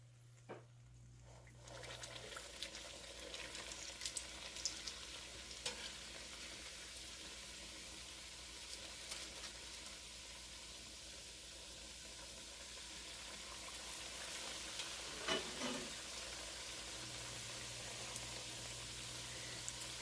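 Steady hissing crackle of fried apple pies cooking in hot oil, continuous and fairly quiet, with a few faint clinks and a low hum underneath.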